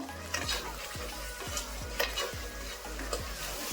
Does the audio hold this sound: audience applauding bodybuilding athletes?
no